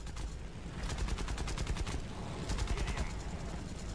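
Aircraft machine guns firing in War Thunder in two rapid, rattling bursts, the second after a short pause, over a constant engine roar, with no talking.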